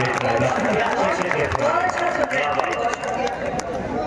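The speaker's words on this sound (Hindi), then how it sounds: "एक बार मिलके पूरा तालियां बजाएं" Crowd at an All India Mushaira poetry event in Barabanki breaking into loud applause, dense clapping mixed with crowd murmur and voices, steady before easing slightly near the end.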